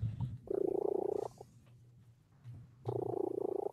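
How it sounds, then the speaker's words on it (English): A barn cat purrs close by in two rhythmic, buzzing stretches with a quiet pause between, steady and fairly soft with no talking over it. "I hear somebody's cat."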